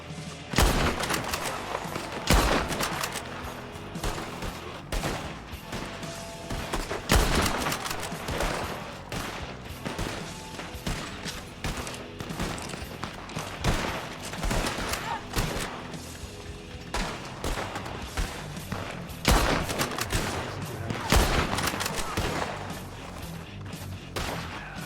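A Red Dead roleplay gunfight rages on the frontier, with dense, irregular gunshots both close and distant, some cracking loud and others popping faintly, continuing throughout under occasional talk.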